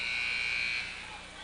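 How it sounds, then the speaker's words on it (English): A loud electronic buzzer at a high school boys basketball game blares in a sustained tone during overtime, then fades into crowd noise in a gym. "So the buzzer sounds."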